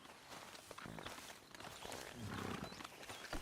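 Horse hooves walking in Red Dead Redemption 2, soft irregular clip-clop steps heard quietly at close range with faint game ambience behind them.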